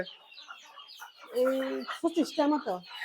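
Free-range desi chickens on a poultry farm cluck and squawk in several short, fairly loud bursts, with lighter clucking and faint chatter in the background before them.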